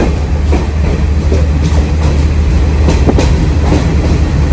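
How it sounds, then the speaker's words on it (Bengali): A train departing rolls along steadily in Sri Lanka between Colombo and Nuwara Eliya, wheels clattering rhythmically on the rails with a constant loud rumble and occasional sharper clicks. "যাক আমাদের ট্রেন ছেড়ে দিয়েছে"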